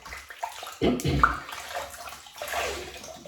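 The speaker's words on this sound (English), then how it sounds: "I'll just rinse the face." Water splashing as a face is rinsed during a wet shave with mug shaving soap and a Gillette Heritage double-edge razor, a close burst of splashes and trickling around the middle, with quieter watery movement before and after.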